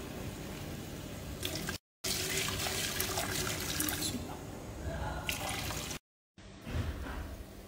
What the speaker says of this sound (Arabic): الحين إن شاء الله بضيف لها من ماء سلق اللحم.